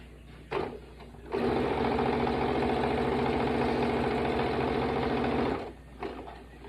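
A sewing machine runs steadily for about four seconds, stitching quilt pieces for a star quilt at a quarter-inch seam, bracketed by brief quiet handling sounds before and after the close, even whirring run.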